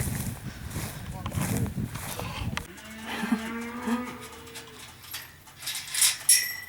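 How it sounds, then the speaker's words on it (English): Cattle moo several times, long low calls with other animal noises in the background, while a person talks briefly at the start. "We're gonna move the cows real quick"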